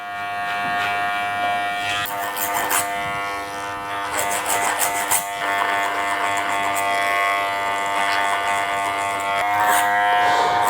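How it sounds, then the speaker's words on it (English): Electric hair clipper buzzing steadily during a temple taper fade haircut, a close, continuous motor hum with small shifts in pitch as the blades work over the hair, with no talking. "And turn the clipper around and just go over the little bits that could spike out a little bit as well."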